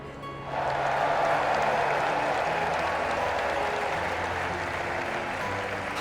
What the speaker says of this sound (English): let us shower these victors with thunderous applause!